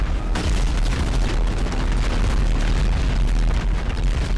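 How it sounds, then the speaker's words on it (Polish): Explosions in GTA Online boom continuously with heavy low-end rumble, overlapping blasts and bursts piling up loud and dense throughout. "Tu wszystko wybucha w GTA."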